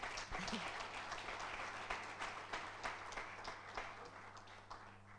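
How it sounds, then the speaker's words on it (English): Conference audience clapping in a large hall, a dense rolling patter of many hands that stays fairly even for several seconds and then thins slightly, distant and moderately quiet, with no talk over it. "give me a round of applause"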